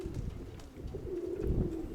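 Mykolaiv pigeons coo close by in a soft, continuous low warble lasting a couple of seconds, with faint rustling beneath.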